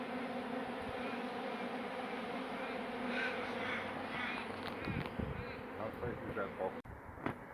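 Honeybees buzzing around a hive after a roof cutout, a dense continuous drone with faint rustling and handling noises toward the end, heard close and steady.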